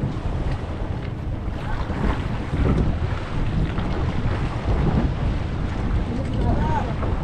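Wind-buffeted recording aboard a fishing boat at sea off Surigao City, with steady engine rumble, water wash and wind noise on the microphone, loud and continuous throughout.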